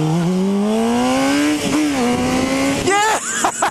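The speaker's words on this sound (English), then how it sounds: "You gotta crank the throttle every now and then." A supersport motorcycle engine revs hard as the throttle is cranked, a loud close whine climbing in pitch, dipping briefly, then surging again in sharp bursts near the end.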